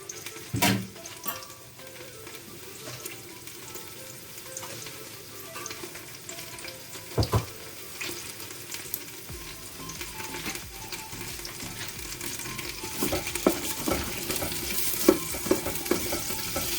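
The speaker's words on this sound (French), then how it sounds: "Je mélange un peu, je laisse ma tomate concentrée un peu cuire" Tomato paste fries and sizzles in a pan for a couscous with vegetables, with scraping stir strokes and occasional knocks of the utensil against the pan, close and steady throughout.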